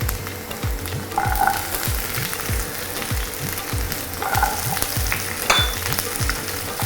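Shallots and garlic fry in hot coconut oil with mustard seeds in a pan, giving a steady close sizzle broken by repeated scraping stirs, with no talking.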